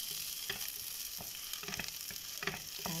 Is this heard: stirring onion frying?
yes